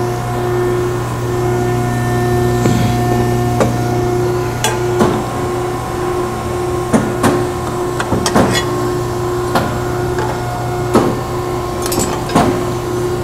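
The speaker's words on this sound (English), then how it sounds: "that's how quick it is to nibble off or round off or radius off the edges of your corners" Scotchman 5014ET 50-ton hydraulic ironworker running a corner-rounding punch that radiuses metal corners: a steady hydraulic motor hum with a series of sharp metallic cutting clicks, about a dozen spaced bites, close and fairly loud.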